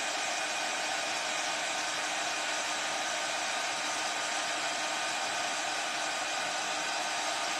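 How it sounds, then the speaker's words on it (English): A heat gun blowing steadily while used on decoupage work on a glass heart vase, a constant close whooshing rush of air with no pauses and no voices. "Keep the heat gun moving."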